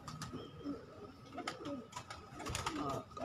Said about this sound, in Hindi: सुबह अभी तो कबूतर उड़े हैं, मैं देखो 25-30 कबूतर उपड़ गए हैं